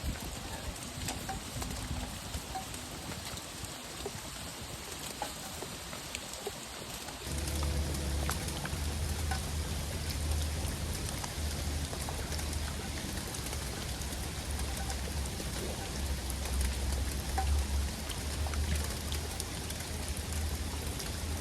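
Rain falls during a fishing outing, a soft steady patter of drops that thickens about a third of the way in, adding a low rumbling bed, continuous and moderately close with no talk.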